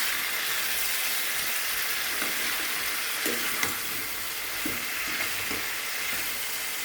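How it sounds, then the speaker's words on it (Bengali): Pumpkin, potato and tender Malabar spinach stems sauté in a pan with a steady, soft sizzle, broken by a few light scraping stirs near the end; no one speaks. "এগুলো কষিয়ে নেব আমি।"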